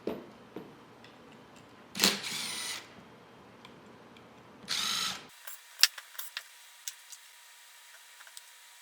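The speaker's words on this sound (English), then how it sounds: "I'm going to take the base plate off my router" Base plate being removed from a cordless router: short bursts of whirring from a powered screwdriver or drill, then a series of small clicks and taps from parts being handled, close and quiet between bursts.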